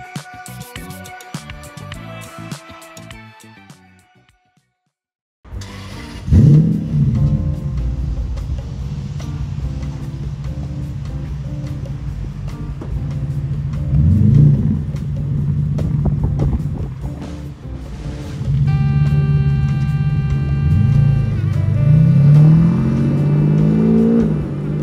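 A straight-piped V12 engine in a Toyota Century revs repeatedly close by, deep rumbling idle broken by several sharp rising blips after a brief silence, with some faint music at the start.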